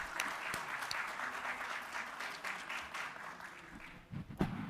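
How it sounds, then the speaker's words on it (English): An audience at a chartered accountants' conference claps in a steady, moderately loud round of applause that carries through without talk and begins to thin out near the end. "A big round of applause to sir."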